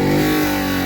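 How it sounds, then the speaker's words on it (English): Car exhaust revving hard at an exhaust decibel competition during a Pontiac Fiero 40th anniversary gathering, a loud, steady, close engine roar filling the whole moment with no pauses. "the middle of an exhaust decibel competition"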